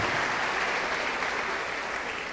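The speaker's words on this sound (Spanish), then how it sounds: "Un aplauso para Kimberly, por favor." Steady applause from an audience, a dense wash of clapping that holds evenly and fades slightly at the end.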